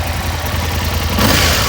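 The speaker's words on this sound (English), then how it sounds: "V-twin rumble sounds great" A 2005 Aprilia RSV1000R superbike's V-twin engine runs steadily nearby with a low, continuous rumble, swelling slightly louder toward the end.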